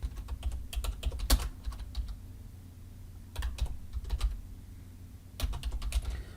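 Computer keyboard keys tapped in quick bursts while entering a project name, clusters of crisp clicks separated by short pauses, close and fairly quiet.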